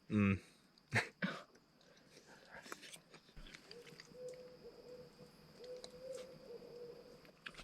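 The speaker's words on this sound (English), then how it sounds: "It was an owl." An owl hoots at night at a provincial park campsite, with soft repeated low hoots under quiet night ambience, preceded by a few louder close knocks and a throat-clearing sound.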